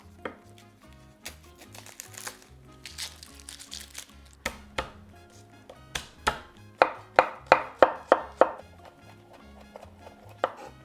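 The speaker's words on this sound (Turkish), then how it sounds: "Sarımsakları da doğrayacağım" A knife chops garlic on a board for nachos in a series of sharp taps, starting sparse and then speeding into a quick, even run, close and clear.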